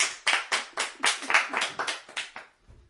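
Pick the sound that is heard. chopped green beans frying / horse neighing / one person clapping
one person clapping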